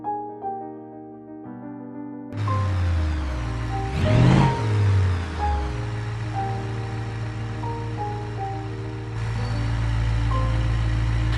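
Ibishu BX twin-turbo V8 drag car with nitrous and 1,299 horsepower, held on the foot brake in BeamNG: after a quiet idle, the engine roars up, sweeps sharply in pitch, then holds a loud, rough rumble while the turbos spool, surging louder near the end.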